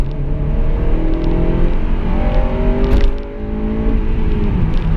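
A Honda Type R's VTEC engine revs loudly and close by, its pitch climbing as it pulls harder, then dipping briefly before rising again.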